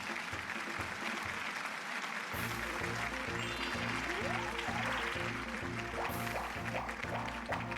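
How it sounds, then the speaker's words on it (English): Crowd applause in the Mario Party 2 video game celebrates Donkey Kong's win, a steady, loud clapping cheer over rhythmic game music with bouncy melodic blips. "Everybody clap for DK right now."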